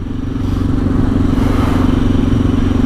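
A Suzuki DR650 motorcycle rides in third gear at about 30 mph, lugging at low revs with a loud, steady thumping engine drone and wind rush close to the microphone.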